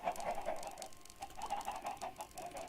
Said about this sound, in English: The sound of chicken feet is like deafening.